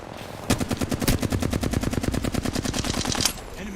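Automatic gunfire in the video game Apex Legends, a rapid, loud, evenly spaced burst of shots lasting nearly three seconds, close and dominant over a faint background.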